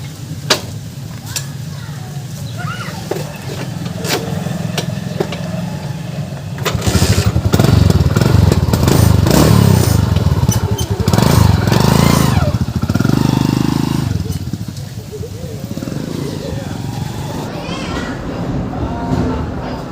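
A motorcycle engine runs loud and near while being ridden, a steady rough drone that swells for several seconds mid-ride and then eases back, with voices talking over it.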